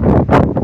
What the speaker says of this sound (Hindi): यहाँ पे देखो कितनी हवा चल रही है